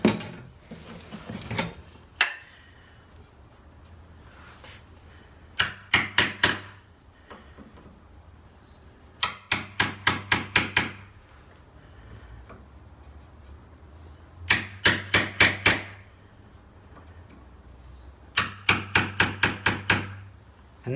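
Hammer striking a chisel to clean out the corner of a door hinge recess, with tight bursts of four to six sharp metallic taps repeated several times, close and loud, separated by quiet pauses.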